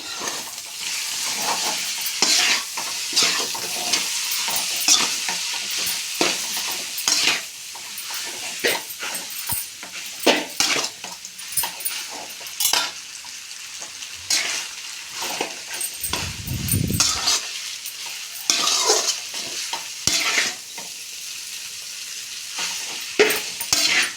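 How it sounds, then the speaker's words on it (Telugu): Spicy egg noodles being stirred and tossed in a frying pan, steady sizzling with repeated scraping and clattering of the spatula against the pan throughout, plus a brief low rumble midway. "ఇవి అన్నీ చిక్కుబడి ఉంటాయి కదా నూడిల్స్ ఎత్తెత్తి కలపాలి"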